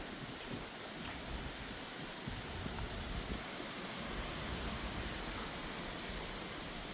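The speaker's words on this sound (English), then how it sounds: "It got nice and breezy down here." Breeze blowing through a campsite on the Appalachian Trail in North Carolina, a steady, broad rushing hiss that holds evenly throughout with no voices.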